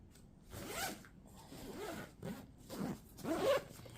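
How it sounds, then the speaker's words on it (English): A zipper is pulled shut on a packed travel bag for a carry-on trip, giving several quick, close rasping strokes with short pauses between them. "now all I have to do is zipper these shut"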